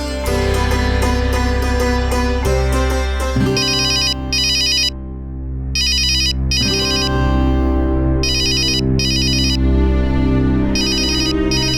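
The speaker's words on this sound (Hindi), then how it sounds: "वो जमुना लाल जी का फोन है, मैं जरा बात करता हूं।" A loud electronic phone ringtone plays a repeating melodic pattern, close and steady, with no voices.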